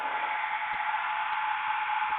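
A hair dryer on its cool, no-heat setting blows with a steady, even whoosh of air, close and constant throughout, drying thick paint on a gel printing plate.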